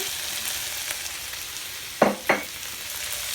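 Shrimp stir-fry in a wok for Singapore-style bee hoon, a constant bright sizzle broken by two sharp metallic clanks of the spatula close together near the end.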